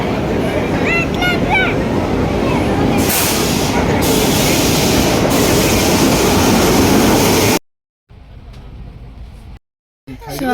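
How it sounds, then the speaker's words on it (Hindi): A train arriving during a Hyderabad to Chennai rail trip, its loud, steady rumble and rushing noise filling the scene with talk on top, before cutting to near silence. "आम ट्रेन आसीगला एबे"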